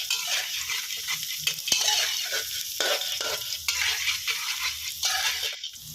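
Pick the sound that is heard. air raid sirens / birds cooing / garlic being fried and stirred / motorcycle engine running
garlic being fried and stirred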